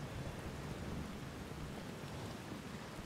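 Steady heavy rain with low rumbling thunder in the side-scrolling strategy game Kingdom New Lands, a continuous even wash of downpour with no voices over it.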